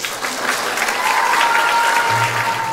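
An award-ceremony audience applauds, a dense steady burst of clapping from a large crowd in a hall, close and full, with a brief voice underneath.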